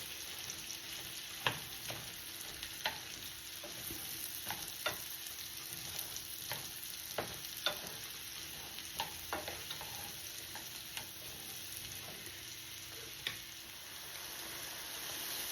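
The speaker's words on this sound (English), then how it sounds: "The onions will get transparent and the mushrooms will release some of their liquid." Onions and mushrooms sautéing in a pan for shrimp pasta, a soft continuous sizzle punctuated by regular sharp clicks of a spatula stirring against the pan.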